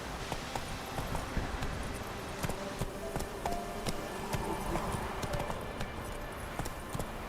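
Roach the horse gallops across open ground in The Witcher 3, hooves drumming in a steady quick rhythm, close and clear, with faint ambient wind beneath.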